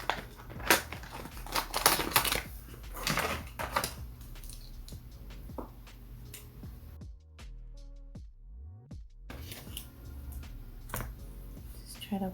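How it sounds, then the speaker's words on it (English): Tombow correction tape is run across a planner page in short, scratchy swipes with small clicks, close and fairly quiet, with a brief silent gap midway. "I'm gonna go ahead and take my Tombow correction tape"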